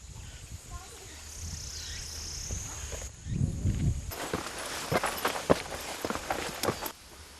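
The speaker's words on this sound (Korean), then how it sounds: "이제 여기서부턴 꼼짝없이 걸어 올라가야 합니다." Footsteps climb a mountain path toward a hidden cave village at 1800 m in rural China, with crunchy, irregular steps growing louder and closer in the second half over faint outdoor ambience.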